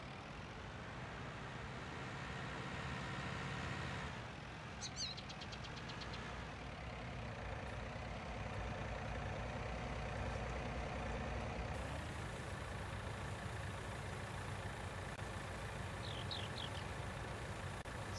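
Tractor engine idling in the farming game Farming Simulator 19, a steady low mechanical rumble with a faint knocking texture that runs unbroken at even loudness, with no talk over it.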